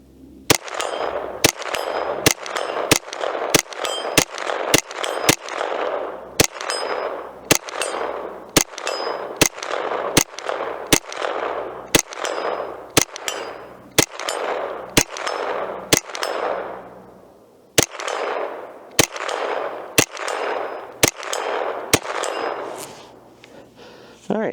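A Derya TM22 .22 rifle fires a long string of sharp shots at a steel target, each crack followed by a ringing metallic clang, in a steady fast rhythm with brief pauses, loud and close.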